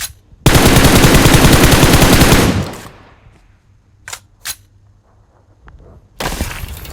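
Rapid automatic gunfire in the PUBG Mobile shooter game, a loud, close burst of about two seconds that fades out, followed by two short sharp shots and a final burst starting at the end.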